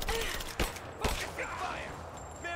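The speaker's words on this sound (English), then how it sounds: "Give me suppressing fire! Now!" Suppressing gunfire rattling in bursts during a firefight in Rise of the Tomb Raider, with sharp close shots and scattered fire over shouting voices.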